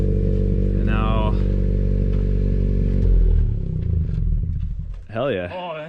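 A 10th-gen Honda Civic Si fitted with a MAPerformance race exhaust and front pipe idles with a loud, deep, steady drone, then revs up and drops back, with people talking near the end.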